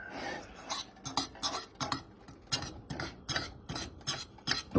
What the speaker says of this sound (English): the longer you stir, the darker your roux will become